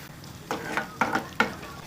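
Masala for egg thokku sizzling and frying in a pan, with three or four scraping stirs breaking through the steady hiss.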